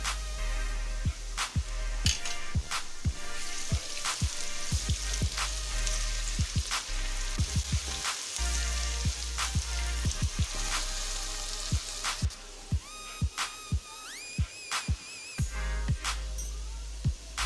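Garlic ginger paste sizzles and crackles steadily in a hot pan, with sharp spoon clicks against the pan recurring throughout.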